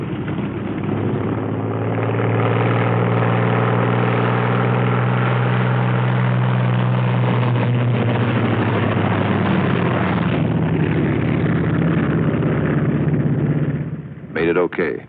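Piston engines of P-47 Thunderbolt fighter-bombers rumble steadily as a pair taxis out on a wartime Italian airfield, a loud droning hum with a shifting pitch that fades slightly near the end.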